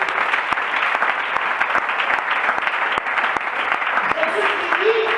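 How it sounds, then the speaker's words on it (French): A church congregation bursts into sustained applause, a dense steady wash of many hands clapping with scattered cheers, loud and continuous throughout without a lead voice. "Acclamons pour la parole de Dieu."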